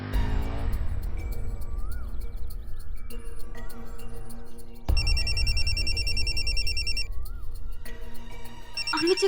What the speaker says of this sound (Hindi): अमित जी का फोन है